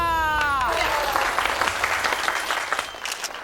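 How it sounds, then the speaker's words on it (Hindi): A burst of applause from a crowd in a comedy show scene, starting right after a tone-like voice and continuing steadily, dense clapping filling the space. "तालियां!"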